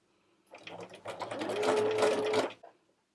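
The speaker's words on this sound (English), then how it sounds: "I'll continue to hold my fabric a little bit to the left as I begin to sew my hem." A sewing machine fitted with a narrow hem foot runs steadily for about two seconds while stitching a narrow hem in fabric, starting and stopping cleanly, close and clear, with a faint whine in the motor hum.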